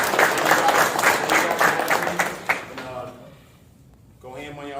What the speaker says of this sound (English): You guys give a round of applause to Coach Grant.